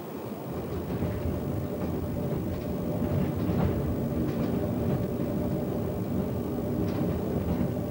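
A train runs on a railway across a high limestone plateau in Guizhou province, China, giving a loud, steady rumbling drone with faint rattles throughout.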